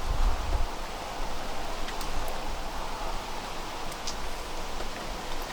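Steady rain falls outside a cabin, a continuous soft hiss with faint patters and a few brighter drips, even and unbroken throughout.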